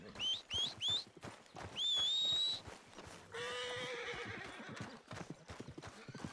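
In Red Dead Redemption 2, a player whistles three sharp calls and one long call for a horse, which answers with a loud, drawn-out whinny. Clopping hooves follow.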